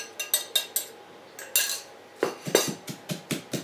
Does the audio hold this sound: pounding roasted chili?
yes